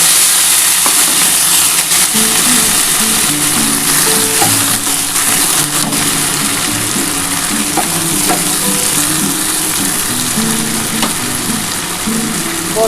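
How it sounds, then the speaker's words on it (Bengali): Tender yardlong beans hit hot mustard oil in a pan with a loud, continuous close sizzle and crackle, steady throughout, the scrape of stirring underneath and no talking. "তেলটা আমার গরম হয়ে গেছে বন্ধুরা দেখো আমি বরবটিটা দিয়ে দিলাম"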